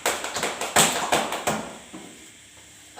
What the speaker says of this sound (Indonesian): beri tepuk tangan buat kita semua ya